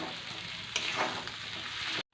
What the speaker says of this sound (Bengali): ভাজা আলুটা একটু কিছুক্ষণ নাড়াচাড়া দিয়ে আমি জল দিয়ে দেব।